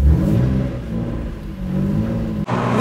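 A Jannarelly Design 1 race car pulls away on its first drive, the engine revving loud and close with a deep rumbling growl, then briefly cutting out before the revs climb again.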